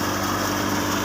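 A tractor runs a wheat threshing machine through a connecting shaft, giving a loud, steady, dense engine drone with constant threshing rumble and no pauses.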